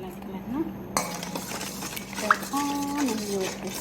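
A utensil stirring and clinking in a bowl while ingredients with sugar and salt are mixed, scraping and light taps under a voice speaking throughout.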